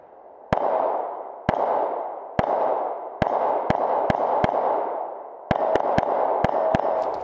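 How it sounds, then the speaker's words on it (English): Sig Legion 9mm pistol fired at 6-inch steel plates about 10 yards downrange, roughly a dozen sharp, loud shots spaced irregularly, some in quick pairs, each followed by a broad ringing clang of the steel that decays slowly. "So we're going to shoot some steel right now."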